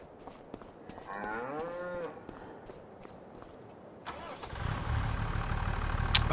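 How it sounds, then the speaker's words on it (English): A tractor engine starts up in the Farming Simulator 25 video game, cranking in partway through and settling into a loud, steady rumble to the end, after an earlier drawn-out cow moo. "Tractor."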